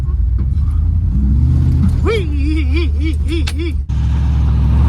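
A 1973 Dodge Polara police car with a 440 V8 rumbles loudly, then revs in rising surges, the pitch climbing and dipping several times before settling back to a steady drone; a voice briefly cheers over it.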